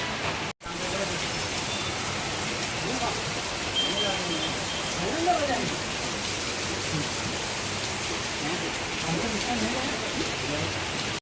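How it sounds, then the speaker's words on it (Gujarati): Steady rain hisses continuously at an even, moderate level in Rajkot, a dense wash of falling drops with no breaks. "ઓલરેડી વરસાદ ચાલુ થઈ ગયો"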